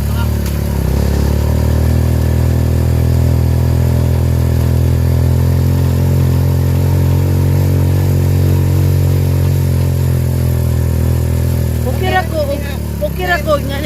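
A motorcycle engine idles steadily with a low, even rumble close by, joined near the end by some higher-pitched noise.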